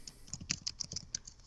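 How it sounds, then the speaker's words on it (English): Quiet, rapid keystrokes on a computer keyboard form an uneven run of light clicks and taps, close by, with no one speaking. "What you typing?"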